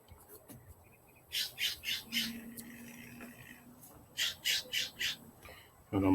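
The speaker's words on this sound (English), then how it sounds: "The blue bird's coming." A blue bird near a power pole line gives two bursts of rapid, raspy squawks, four or so calls each, fairly faint and outdoors, with a soft voice murmuring in between.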